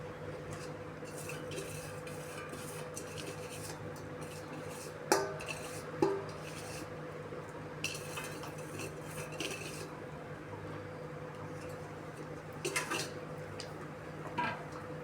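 Wheat rava upma is stirred in a pan with a spoon, giving soft continuous scraping and occasional sharp metallic clinks against the pan over a low background hum.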